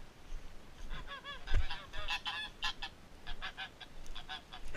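A flock of geese honks repeatedly nearby while being herded inside at night, overlapping calls in quick bursts with a single dull thump partway through.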